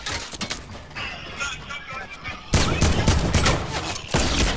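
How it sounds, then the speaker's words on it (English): Rapid gunfire in a video game, with a lighter patter of shots that turns into louder, denser bursts partway through, and no speech over it. "I'm getting shot from behind."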